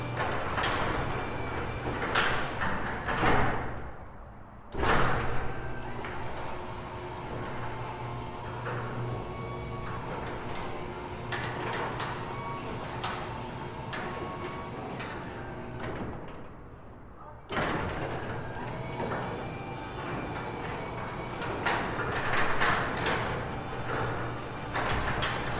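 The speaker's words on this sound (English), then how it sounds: "let the motor run through those cycles, get a feel of the door, and automatically set its force limits" A Genie garage door opener motor drives the door through its travel cycles, a long steady mechanical hum and rumble with brief pauses and clanks where the door stops and reverses direction.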